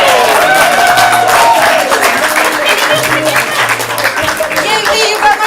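Loud, dense audience applause and cheering at halftime of a ComedySportz improv comedy show in Portland, sustained and steady throughout as the players head out.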